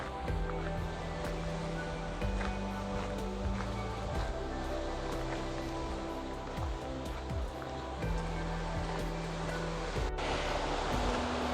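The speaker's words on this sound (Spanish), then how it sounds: "con unos sonidos que proceden de las olas del mar" Ocean waves break and wash continuously on La Griega beach in Colunga, Asturias, as a steady, fairly soft roar of surf with faint tonal sounds drifting over it.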